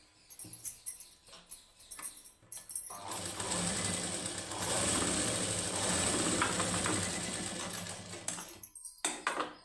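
A sewing machine stitches a plain blouse's high neck in one sustained run of several seconds, preceded by soft handling sounds and ending abruptly.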